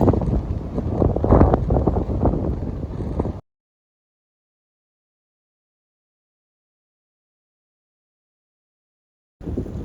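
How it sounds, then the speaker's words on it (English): Strong wind on a high hiking trail buffets the microphone in a loud, rumbling roar for a few seconds, then cuts to silence before returning briefly at the end. "Awfully windy up here."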